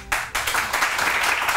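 Hands clapping on a palm pressure point: rapid, steady claps repeated close and fairly loud for over a second, with no talk.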